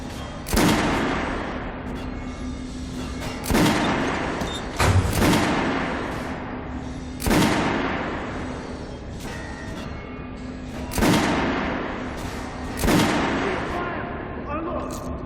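Heavy gunshots ring out at a shooting range in the game Metro: Last Light, six loud, booming reports spaced a couple of seconds apart, each followed by a long echoing decay, with a low hum running underneath.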